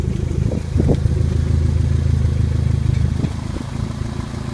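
Toyota MR2 Turbo with an Apexi exhaust and a bung fitted, a steady low engine drone with a slight rise around the first second, close and continuous throughout.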